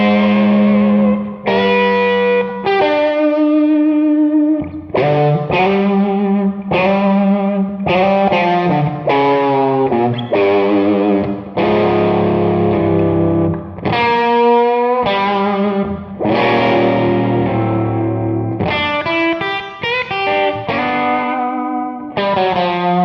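Distorted electric guitar playing a blues lick, with small half bends inside chords and effects-unit coloring with light echo, about twenty-three seconds of continuous loud phrases with short pauses and no talking.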